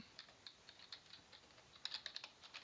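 Quiet, brisk keystrokes on a computer keyboard tap out a short burst of typing with no one talking.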